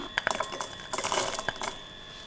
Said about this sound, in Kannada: ಇದಕ್ಕೆ ಬೆಳ್ಳುಳ್ಳಿ ನಾನು ಇಲ್ಲಿ ಒಂದು ಗೆಡ್ಡೆಯಷ್ಟು ಬೆಳ್ಳುಳ್ಳಿನ ಸಿಪ್ಪೆ ಬಿಡಿಸಿಟ್ಕೊಂಡಿದ್ದೀನಿ ಅದನ್ನು ಕೂಡ ಹಾಕ್ತಾ ಇದ್ದೀನಿ